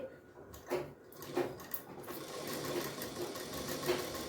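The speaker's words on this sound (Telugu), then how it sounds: "ఇప్పుడు నేను మిషన్ పైన ఎలా కుట్టాలో చూపిస్తాను స్ట్రైట్ లైన్స్ ఎలా కుట్టాలో చూపిస్తాను" A tailoring sewing machine runs in short bursts and then steadily, stitching straight lines through cloth with a close, rhythmic mechanical whirr and clatter, without speech.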